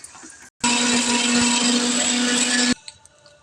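A kitchen mixer grinder blending salt, cumin and roasted coriander powder for a gongura chutney, switching on abruptly with a loud steady whine for about two seconds, then cutting off to quiet room noise.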